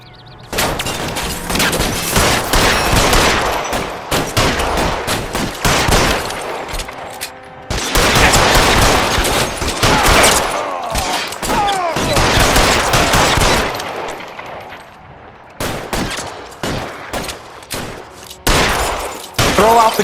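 Gunfire rings out during a shootout in the L.A. Noire video game: loud, close bursts of rapid shots in sustained volleys, broken by short pauses and resuming in sharp clusters.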